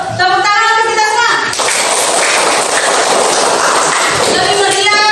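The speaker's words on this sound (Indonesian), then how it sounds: "Tepuk tangan untuk kita semua." A classroom group breaks into loud, dense clapping for a few seconds, bracketed by children's voices before and after.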